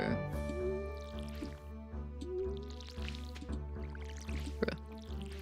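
Watering crops in Stardew Valley Expanded, a farming video game: soft repeated splashing and dripping water effects over steady game music, with a voice talking now and then.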